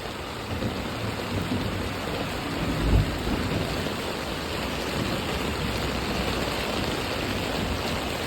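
Heavy rain pours down in a dense, steady hiss near the listener. One faint thump stands out briefly, and no one speaks.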